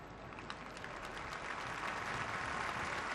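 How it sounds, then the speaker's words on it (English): Steady crowd applause from a large rugby stadium audience, a broad sustained wash of clapping that swells slightly toward the end. "And so applause for Rowan Milnes"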